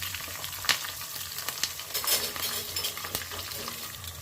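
Green chillies sizzling in hot oil while lemon rice is made as a festival offering, a steady frying hiss broken by a few sharp crackles and spatters, with light stirring clinks and no talk.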